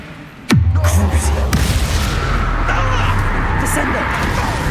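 Bombarda explosion spell in the Hogwarts Legacy video game: a sharp, close blast with a deep rumbling tail, then a second thump a second later, while a voice speaks over the continuing low roar.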